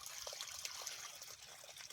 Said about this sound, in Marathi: आता इथं पाणी चालू आहे, मोटर चालू आहे